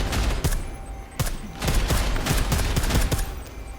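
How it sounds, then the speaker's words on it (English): Rapid bursts of combat rifle fire in Deus Ex: Mankind Divided, loud close shots firing in quick irregular volleys throughout, with no talk. "Or maybe it's just combat rifle shots."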